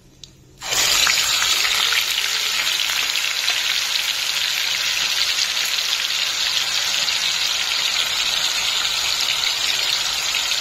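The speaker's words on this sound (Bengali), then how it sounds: "এবার এটাকে ভালো করে ভেজে নেব।" Onion paste hits hot oil with dried red chillies and bursts into a loud, steady sizzle that continues unbroken and close at hand after a quiet start.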